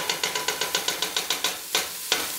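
Shrimp creole being stirred and sautéed in a pan on low heat, with a steady series of about ten rhythmic scraping stirs and a soft sizzle, then a couple of sharper strokes, close and alone without talk.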